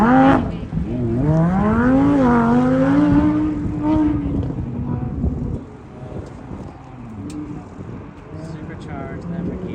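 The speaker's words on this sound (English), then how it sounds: "Supercharged Lamborghini." A supercharged Lamborghini engine drones and rises in pitch as the car accelerates at a Hawaii autocross event, loud and close from inside, then settles into a lower hum as people talk.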